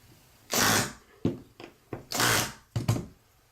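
A small power driver buzzes in short bursts while tightening the screws on a hair clipper blade, two longer whirs and several quick blips, close and clear.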